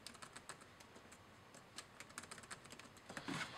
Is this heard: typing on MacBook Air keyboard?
yes